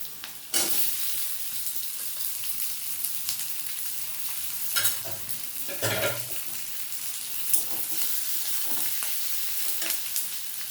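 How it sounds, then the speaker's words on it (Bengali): Onion, garlic and potato pieces frying in a pan, a continuous sizzle broken by repeated scraping stirs and clatter of the spatula, close and fairly loud, with no talking. "পেঁয়াজ রসুনটা বেশ ভালো করে একটু কষিয়ে নেব। একটু আলু কেটে রেখেছি, এবার ওটাই দিয়ে দেবো।"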